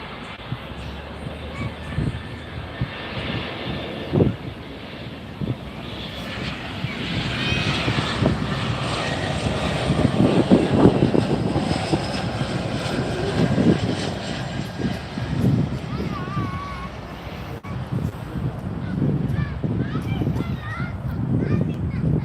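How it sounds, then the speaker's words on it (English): A Lufthansa Boeing 747 cargo jet at Miami airport roars steadily, swelling to a loud rumbling peak midway and then holding a broad engine drone, with voices in the background. "Lufthansa 747."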